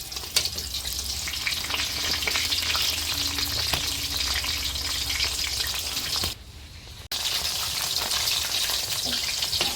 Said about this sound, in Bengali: লঙ্কা ভাজা কমপ্লিট হয়ে গেল